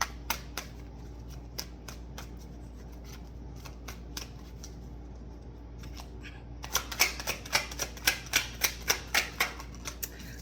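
Tarot cards being shuffled for a reading: light repeated snapping and riffling close by, faint at first, then a louder rapid burst of card flicks toward the end.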